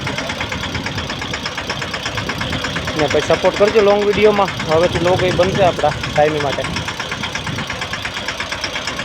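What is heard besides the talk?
tractor engine during sowing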